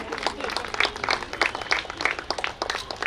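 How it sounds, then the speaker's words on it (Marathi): Audience applause at an Inner Wheel Club Deepotsav gathering, a steady stretch of scattered hand clapping with uneven rhythm from a seated crowd, moderately loud and continuous for the whole span. "प्लीज जोरदार टाळ्या वाजवूयात"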